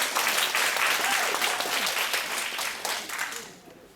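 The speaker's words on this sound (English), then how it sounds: "Let's give a big round of applause to Louis and Christine." A dense round of applause from a school audience at a bilingual class presentation welcoming the student hosts, loud at first and gradually fading away near the end.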